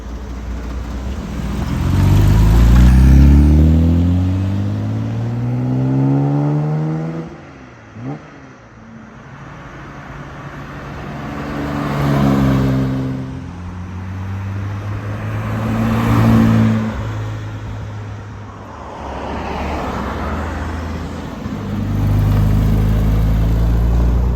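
A 1962 Jaguar E-Type 3.8 Series 1 Roadster makes several flybys, its engine note swelling and rising as it approaches, then falling away, with revving surges between passes and a low rumble throughout.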